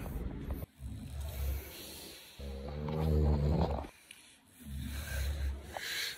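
A truck pushes its way into Campinpin, its engine roaring in heavy low surges that rise and fall, with a louder, rougher revving stretch in the middle.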